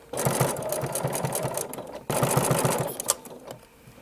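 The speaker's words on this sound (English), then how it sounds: "Put that clip back on and continue sewing and sliding that clip" Sewing machine stitching raw edge binding, a loud steady run of fast needle strokes that pauses briefly midway, then resumes and slows to a stop.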